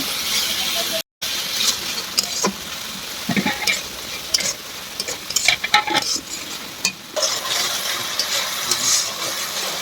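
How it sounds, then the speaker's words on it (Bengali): Banana flower sautéed with chilli paste, salt and turmeric in oil gives a steady close sizzle with frequent scraping stirs of a spoon against the pan, a brief drop-out early on and short pauses between strokes. "পরিমাণ মতো লবণ আর পরিমাণ মতো হলুদ করে কষাবো"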